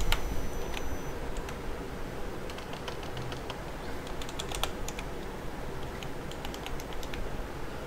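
Someone types a password on a computer keyboard in a steady run of close, crisp key clicks over a constant background hiss, with no talking.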